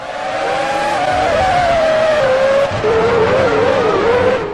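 Formula One race cars scream around the Monaco street circuit in the PS2 racing game Formula One 2003, a loud continuous engine whine sliding downward in pitch with tyre squeal and skidding mixed in, steady throughout.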